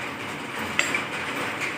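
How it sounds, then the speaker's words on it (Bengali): Heavy rain falls steadily outside a home kitchen during cooking, a dense, even hiss that fills the whole stretch, with one brief metallic clink of a pot or utensil nearby. "কি জোরে জোরে বৃষ্টি হচ্ছে আমাদের এখানে।"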